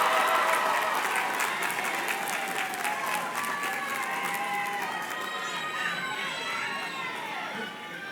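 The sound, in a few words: students' round of applause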